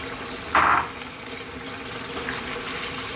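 Eggplant halves drop into a pan of bubbling spicy tomato sauce, with a brief loud splash and sizzle followed by a steady low bubbling.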